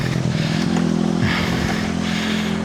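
A motorbike's electric starter cranks and the engine catches into a steady, close, loud running idle throughout, with a low throbbing drone in hot weather.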